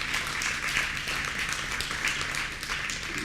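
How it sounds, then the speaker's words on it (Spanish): Church congregation applauding in praise, a steady dense wash of many hands clapping throughout at moderate loudness, with no pause. "dale un aplauso al Señor."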